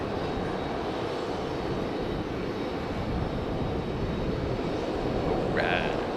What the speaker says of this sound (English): FedEx 767, yes, there it is.